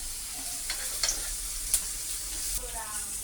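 Onions, green chillies and salt for a prawn gravy frying in a pan, with a continuous sizzle broken by a few sharp scraping clinks of a spoon stirring, close up and without speech.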